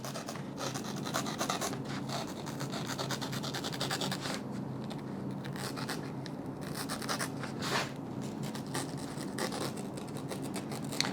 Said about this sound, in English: making sure the blade is 90 degrees perpendicular to the foam at all times, you follow that line you've already made and deepen that cut